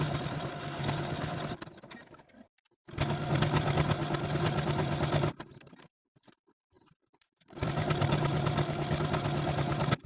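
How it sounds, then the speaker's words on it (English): A sewing machine stitches buttonholes on a shirt placket in three loud, rapid bursts of mechanical whirring and clatter, separated by brief quiet pauses with faint handling clicks. "Now I'll take this right placket to the sewing machine and sew all of my buttonholes."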